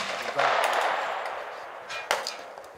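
Shotgun shots at a trap shooting range, a loud sharp blast followed by a long fading echo and a second nearer crack near the end, outdoors with no clear talk.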